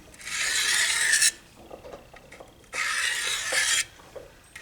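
A blade rasps across a Harbor Freight four-sided diamond sharpening stone in two long, loud strokes with a quiet pause between them and soft handling noises after each.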